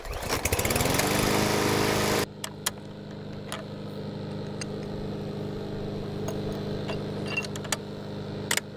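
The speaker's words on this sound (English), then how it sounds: "Let's get our mower started." A lawn mower engine starts and roars loudly up close for about two seconds, then cuts out, leaving quieter background noise with scattered clicks and knocks.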